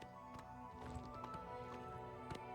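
A horse's hooves clip-clop in Oblivion Remastered, a faint, steady walking rhythm of taps over a quiet humming game ambience, with no talking.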